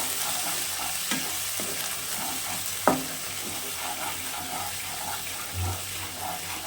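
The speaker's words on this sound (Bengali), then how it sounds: "পুরোটা দিয়ে আপনাদের দেখাচ্ছি এরকম করে শুকনো শুকনো করে ভেজে নিতে হবে" Flat bean mash fries in mustard oil while being stirred, a steady close sizzle running throughout with scraping stir strokes and a sharp knock of the spatula against the pan.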